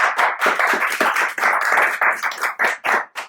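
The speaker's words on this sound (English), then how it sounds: "Maybe a grand round of applause for them." Audience applause at a London tech event honouring host partner SBI UK, with dense, steady clapping that rises and dips over a few seconds, close and loud, with no talking.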